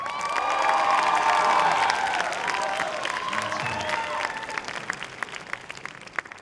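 An audience at an NTU Hourglass concert applauds a live band after the drummer is introduced, dense continuous clapping with some cheering and shouts, with a sustained musical note ringing at the start.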